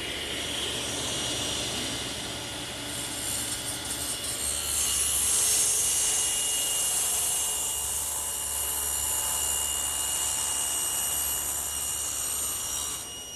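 A power saw cuts through a wooden board for a bookcase project with a sustained, high whining roar that swells midway and holds steady, loud and close.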